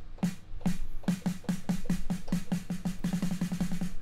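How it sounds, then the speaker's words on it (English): A keyboard's electronic snare drum sound is struck repeatedly, single evenly spaced hits that speed up into a quicker roll near the end, crisp and close with no voices. "So this is the snare"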